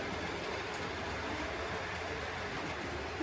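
A model freight train rumbles steadily along its track, a continuous close mechanical whir and rattle with no pauses and no voices.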